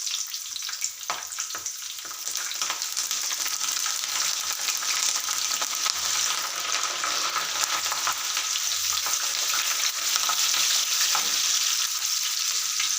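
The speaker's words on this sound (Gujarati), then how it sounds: "હવે આમાં આપણે મરચાં શેકી લઈશું." Chilies roasting in a pan for a Gujarati dish: a continuous, even sizzle and crackle that holds steady for the whole stretch, with no talking.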